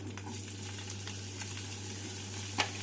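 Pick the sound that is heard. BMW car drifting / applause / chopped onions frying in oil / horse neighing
chopped onions frying in oil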